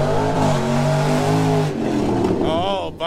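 A 4.8 Vortec V8 swapped into a Ford Ranger, tuned with a raised rev limit, revs hard then drops off, loud and close, with a brief voice near the end.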